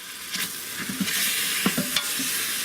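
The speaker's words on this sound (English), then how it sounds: "Go ahead and add all that, and again, give everything a good stir." Mongolian beef ingredients with minced dehydrated onion being stirred in an Instant Pot: a steady hiss of cooking with a few sharp spoon scrapes and knocks against the pot, close and alone.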